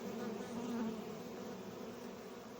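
Bees busy gathering linden honey in a broadleaf forest in northern Poland, a steady close buzzing hum that swells briefly near the start and then holds evenly throughout, with no voices.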